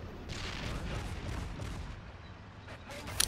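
A 150mm Type 97 mortar firing in a World At War mod strategy game, heard as a run of muffled booms and broadband blasts under a steady rumble, with a sharper, louder hit near the end.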